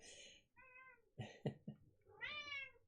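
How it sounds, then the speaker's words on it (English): A pet cat named Munchkin meows several times in short, close cries, separated by brief pauses and ending in a longer drawn-out call, with no talking. "My cat Munchkin says hello."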